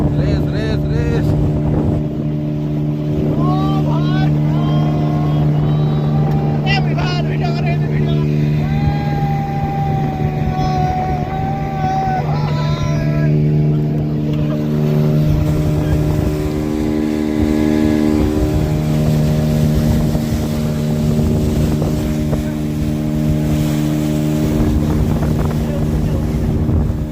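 A motorboat carrying a group of friends drones steadily throughout, its engine a constant loud hum with wind rushing past the microphone, while voices call out and chatter over the noise.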